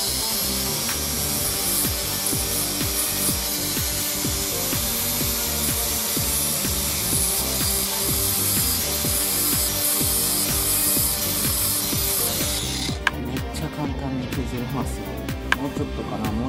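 A Bosch disc grinder grinds a car part for a Toyota AE86 quad-throttle project, a loud, harsh, continuous abrasive whine that runs steadily before cutting off near the end.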